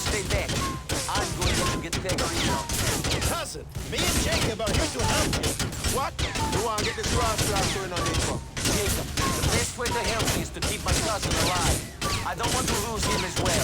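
Rapid bursts of gunfire and crashing impacts from a shootout in the video game GTA 4, dense and continuous with a busy mechanical game soundscape and faint voices underneath.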